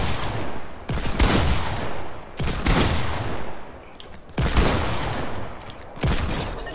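Bursts of gunfire in the Fortnite battle royale video game during a 1v1 match, several loud rapid volleys separated by short pauses, sharp and close with no talk.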